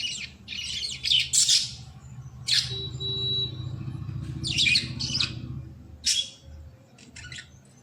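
Pet birds chirp and squawk in sharp, close bursts with short pauses between calls, over a low steady hum.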